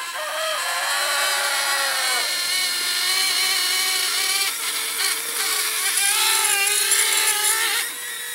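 Small electric motors of a Blade Inductrix Switch Air R/C airplane whirr steadily and loudly, with the pitch shifting as the throttle rises and falls over about eight seconds, heard alone.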